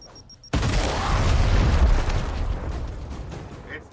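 A frag grenade detonates in Gears Tactics with a sudden heavy boom and a long rumbling decay, loud and close, with faint voices in the background.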